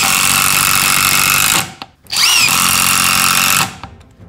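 A Festool TID18 cordless impact driver drives screws in loud, close bursts of rapid hammering, two runs separated by a short pause, with the motor whine rising and falling.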